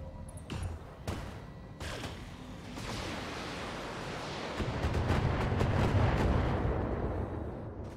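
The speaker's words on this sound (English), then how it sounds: "We're going to shoot at the turret." Shots fired at a turret in a video game: several sharp, booming reports in quick succession, followed by a sustained roaring rumble that swells and holds.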